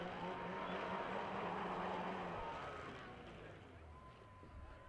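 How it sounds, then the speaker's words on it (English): A freestyle motocross motorcycle engine roars loud and sustained while the rider spins donuts, the revving steady and then easing off slightly toward the end amid crowd noise. "Oh, now he's showing off a little bit, doing a little bit of donut action in there."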